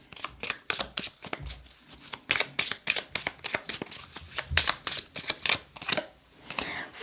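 Tarot cards being shuffled by hand, a long run of rapid riffling flicks and soft slaps in a quick, uneven rhythm, close up and with no talk over it.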